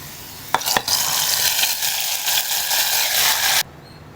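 Curry leaves and spices spluttering in hot oil for a sambar tempering, a loud crackling sizzle with a couple of sharp pops near the start, running steadily for about three seconds before cutting off to near silence.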